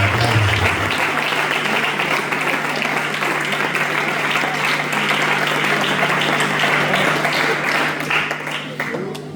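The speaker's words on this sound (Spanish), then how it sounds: "hacelo con fuerza, el aplauso" A church congregation claps loudly and steadily, a thick wash of applause lasting the whole stretch with no let-up, close and full, fading only slightly at the very end.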